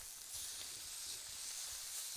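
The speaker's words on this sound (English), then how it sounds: "You hear that sizzling? That's exactly what you want to hear when you put that steak on." Bright, steady sizzling hiss of meat searing on a hot griddle, close and continuous with no voices.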